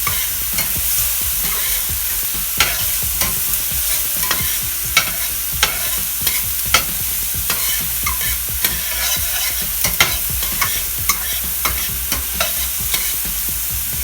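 Fried rice with onion, ginger and pepper is stir-fried in a hot pan, the steady sizzle broken by quick, rhythmic scrapes and clacks of the spatula.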